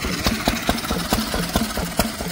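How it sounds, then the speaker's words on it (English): A Lister engine driving a domestic pump chugs at a rapid, regular beat of sharp exhaust knocks, close by and fairly loud, with no voices. "power plant on a Lister domestic pump"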